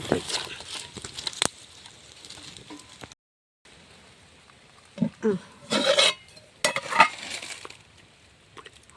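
Fermented vattayappam batter is stirred in a bowl, with a few close scraping and clinking strokes in short bursts separated by quieter gaps.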